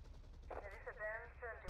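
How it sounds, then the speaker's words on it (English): Gunfire in the Grand Theft Auto: Vice City video game comes as a short burst of rapid shots around the middle, set over quiet game ambience and ending in a brief final crack. "Who's shooting?"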